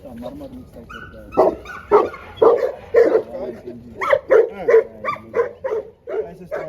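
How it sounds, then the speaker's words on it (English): A strong dog barking at a stud farm, a close, loud series of about a dozen deep barks and yips in an irregular rhythm, with a whimpering sound at the start. "That's a strong dog, this one."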